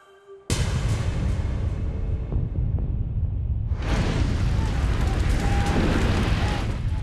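Explosion at an oil facility in Texas: a sudden loud broadband blast erupts and sustains a heavy roaring rumble, then swells into an even louder fiery roar midway, continuing without letup.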